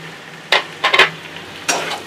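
Chilli mushrooms stirred in a pan with vinegar, soy sauce and chilli sauce: three short bursts of scraping and sizzling, close and fairly loud, separated by quiet pauses.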